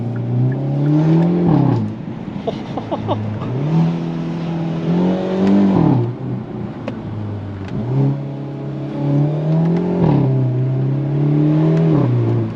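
A Hyundai Elantra N held in sequential mode, its engine revving up through the gears in repeated climbing pulls with brief dips at each shift, loud and steady from inside the cabin.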